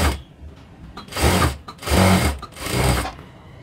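A sewing machine stitches a half-inch seam on a blouse in three loud, close bursts of rapid mechanical whirring, separated by short pauses.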